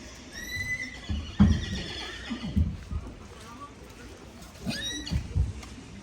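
At a dressage competition, a horse gives two shrill whinnies, one near the start and another later on. Dull thuds and movement sounds fill the gaps in between.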